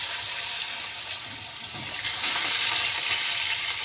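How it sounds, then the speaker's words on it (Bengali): Potatoes fry in fish oil with cumin and bay leaf, a steady, close hissing sizzle that swells slightly louder partway through. "মাছের তেলের মধ্যেই আর জিরে ফোড়ন আর তেজপাতা ফোড়ন দিয়ে আগে আলুগুলো ভেজে নেব"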